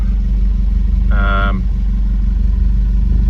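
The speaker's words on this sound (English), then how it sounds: "Okay, engine's running" A Lotus Esprit S3 engine idles with a steady, low, even rumble throughout, and a brief tonal sound cuts in partway.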